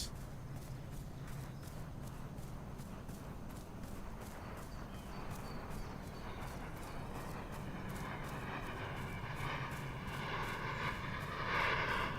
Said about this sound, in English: That's such a cool airplane, dude. It sounds so good.